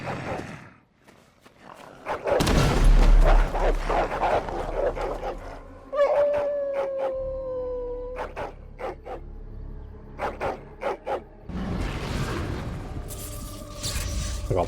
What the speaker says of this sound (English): I got bitch slapped by a dog.